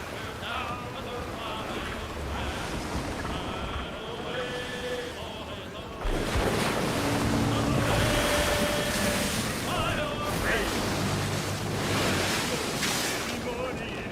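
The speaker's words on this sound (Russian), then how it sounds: "Вы видели там корабль только что? Как будто на моторе." Ocean waves and wash around a sailing ship in Assassin's Creed Black Flag, a steady broad surf roar with wind that swells louder midway, with people talking over it.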